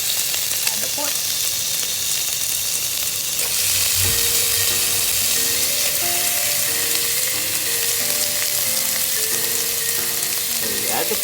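Pork hitting a hot pan with golden garlic and onion for Filipino adobo, a loud, continuous sizzle and hiss close up, with stirring scrapes and faint background tones.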